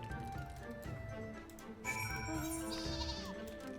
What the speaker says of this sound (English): and then I have my own little sheep.